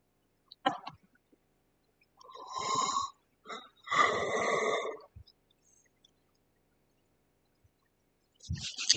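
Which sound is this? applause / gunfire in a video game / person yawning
person yawning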